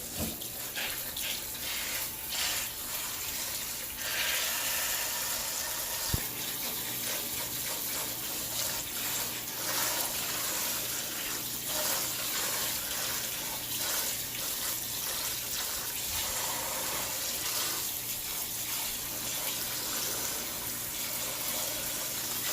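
Cold tap water runs steadily into a sink, a continuous loud splashing rush with no voices, holding even throughout.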